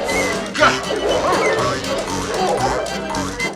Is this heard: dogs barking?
yes